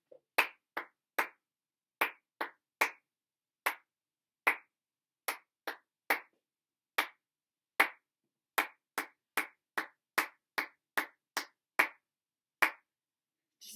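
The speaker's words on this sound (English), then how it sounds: "We're going to clap the whole thing, but the last 2 cards have gone." Sharp, close hand claps tap out a rhythm in a violin lesson, crisp isolated hits in short groups with clean silence between them and no talking.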